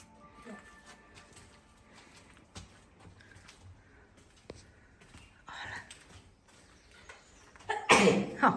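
A single loud, close sneeze bursts out near the end inside a dim railway tunnel on a walking and cycling trail, following quiet echoing ambience with faint talk and footsteps.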